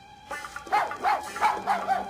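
A cartoon dog in an animated show barks five times in a steady rhythm, moderately loud and close, over a faint background hum.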